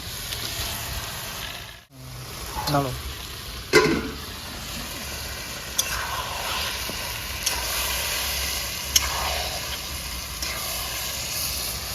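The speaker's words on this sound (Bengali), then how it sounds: "তাহলে চিকেনটা ঢেলে দেবো মেরিনেশন করে চিকেনটা" Marinated chicken goes into a hot pan for a Bengali chicken curry and fries with a steady, close sizzle, marked by a few sharp clinks and scrapes as it is stirred.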